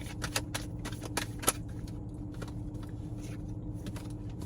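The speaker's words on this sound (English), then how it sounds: "I'm just shuffling here." Tarot cards riffle and slap together in quick, uneven bursts close by, a papery flutter repeating over a low background hum.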